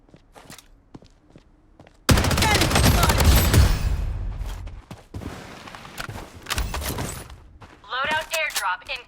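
Bursts of automatic gunfire in the Blood Strike shooter game erupt loud and sustained for several seconds, with sporadic single shots and footsteps before and after; brief game voice callouts sound near the end.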